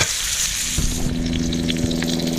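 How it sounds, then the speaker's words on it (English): Meat sears over a roaring wood fire outdoors along the Iditarod trail, giving a close, continuous hiss and crackle with a few sharper pops. "I'm just going to sear it on both sides."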